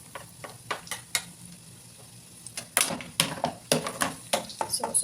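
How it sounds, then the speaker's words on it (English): Garlic sautéing in a pan gives a soft background sizzle under irregular scraping and clattering strokes of a utensil, which grow busier and louder in the second half. "saute the garlic"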